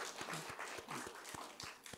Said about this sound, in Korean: 자, 우리 박수 쳐줍시다